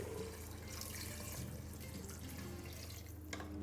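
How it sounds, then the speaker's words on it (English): One liter of water poured into a multi-cooker pot, a continuous gushing splash over a low steady hum, close and fairly quiet, with no voices. "Now add in 1 liter of water."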